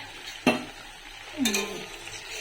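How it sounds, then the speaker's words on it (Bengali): Bora fritters fry in hot oil with a soft steady sizzle, broken by two brief stirring scrapes as a utensil moves through the pan, close up and with no talking. "অল্প অল্প করে দিয়ে সব বড়াগুলো ভাজা হচ্ছে"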